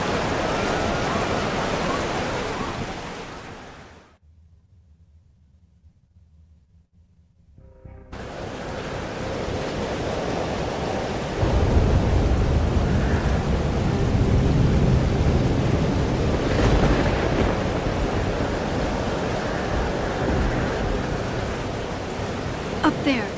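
Heavy video game rain hisses as a dense, loud wash with a low thunder rumble, cutting to near silence for a few seconds before the downpour returns even stronger.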